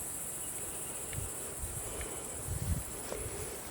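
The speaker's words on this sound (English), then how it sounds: "Cicada." An insect, a cicada, calls in a garden as a steady, high, continuous buzzing drone throughout, with faint rustling and soft knocks underneath.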